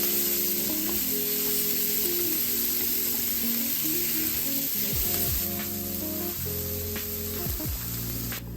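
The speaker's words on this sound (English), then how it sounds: "Toss in some green onions. We're gonna stir fry" Shrimp egg roll filling with green onions being stir-fried, a loud continuous hissing sizzle close by with a few scraping tosses and a slight drop in intensity near the end.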